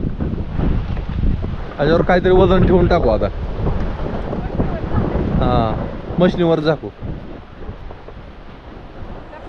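Gusty wind sweeps across a farm under a cloudy sky, rumbling and buffeting loudly close by as people talk over it.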